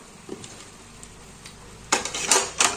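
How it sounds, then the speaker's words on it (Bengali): Chopped tomatoes drop into a pan of cooking winter vegetables for a Bengali mixed curry, starting from a low simmering hiss and then breaking into a louder sizzling, crackling burst with a few clinks. "এবার আমি এর মধ্যে দিয়ে দেবো টমেটো কুচি,"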